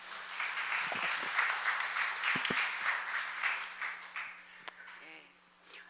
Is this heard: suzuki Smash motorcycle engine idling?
no